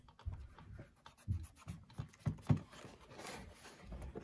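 A finger rubs polish onto a shell cordovan leather loafer near the toe crease, giving soft, quiet, uneven rubbing and squeaking strokes in short bursts, close up and without talk.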